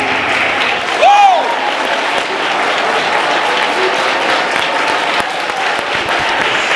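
Church congregation clapping along during a sermon, a steady, dense wash of applause that runs through the whole stretch, with a voice rising briefly near the start.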